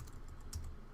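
Quiet, quick keystrokes on a computer keyboard as code is typed, a soft steady patter of clicks close by with no talking.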